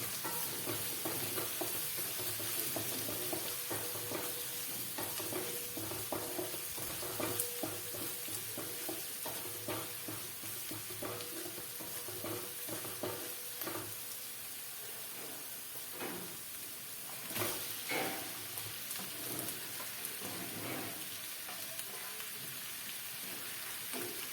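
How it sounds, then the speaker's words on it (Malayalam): Chopped onions fry in a pan with ginger and garlic for crab roast, a steady close sizzle and hiss broken by scraping stirring strokes, with no voices. "ഇഞ്ചിയും വെളുത്തുള്ളി ഒരുവിധം മൂത്ത് വരുമ്പോഴത്തേക്ക് അതിലേക്ക് സവാള അരിഞ്ഞ് വെച്ച് ഇടണം."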